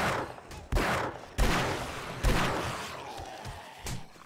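Gunfire rings out during a horde night in 7 Days to Die, four or five loud, booming shots at uneven intervals, each trailing off with a short decay among fainter game noise.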